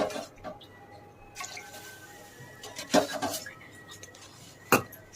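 Rice water goes into a pressure cooker with faint trickling and splashing, broken by a few sharp clinks of metal vessels, quiet and close.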